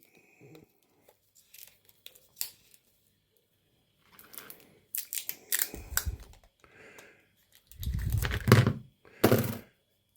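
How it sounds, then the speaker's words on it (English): Tape being wrapped around a plastic pill bottle for a salt container, heard as intermittent close thumps, pulls and ripping bursts with quiet gaps between, the loudest tearing near the end. "I'm going to take some tape, pretty that up"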